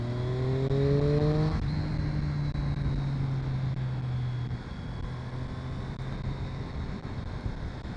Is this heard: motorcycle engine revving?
yes